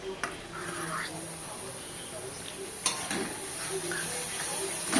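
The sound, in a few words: stirring coconut and jaggery filling in a pan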